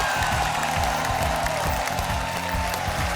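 Studio audience applause on a Hindi TV quiz show, Dus Ka Dum, a steady broadband wash of clapping that runs the whole time over a rhythmic low musical bed.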